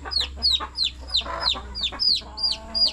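Chickens given as a gift cluck in a regular series of sharp, high calls, about two every second, close and clear over a low steady hum.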